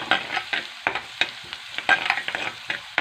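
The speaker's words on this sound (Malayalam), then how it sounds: "ക്യാരറ്റും ഒന്ന് വയറ്റി കൊടുക്കാം" Carrots being sautéed in a pan, with a utensil scraping and stirring in quick, irregular strokes over a soft, steady sizzle, close and distinct, with no voices.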